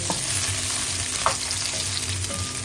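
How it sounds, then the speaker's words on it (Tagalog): Golden-browned pork dropped into garlic frying in a pan for pork adobo with seafood, giving a steady close sizzle with small stirring clicks throughout, no talk. "Ilagay natin yung ating karne na ginawa nating golden brown."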